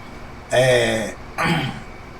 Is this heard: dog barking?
no